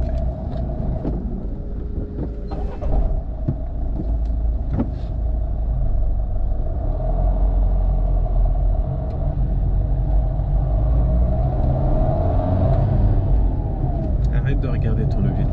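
A car pulls away in town and shifts through first, second and third gears, giving a low engine rumble that rises and falls with each shift, while voices talk over it.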